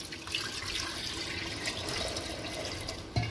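Water pours steadily into a pressure cooker holding potatoes, making a continuous splashing rush with a small knock near the end.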